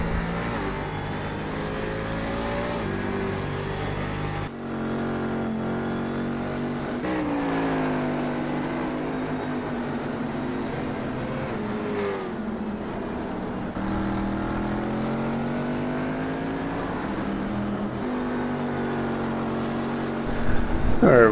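Cadillac Daytona prototype race cars lapping a track in a sim racing league, their engines droning steadily at mid distance and rising and falling with throttle and gear changes.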